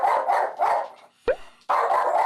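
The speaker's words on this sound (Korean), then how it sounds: "역시나 화면에 개가 나오자 평소처럼 짖기 시작하는 몽이." A dog barks at dogs appearing on a TV screen, giving several loud, close barks in rhythmic bursts with a brief yelp between them, no voices.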